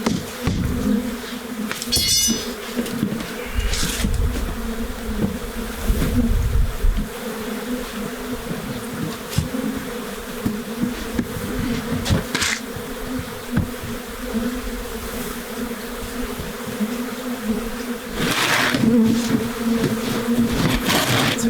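A steady, dense buzz of a bee colony trapped inside a garage wall, loud and close, continuous throughout with occasional louder swells and scrapes.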